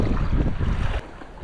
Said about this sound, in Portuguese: O vento tá me empurrando para as pedras